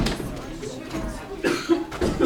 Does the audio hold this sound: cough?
yes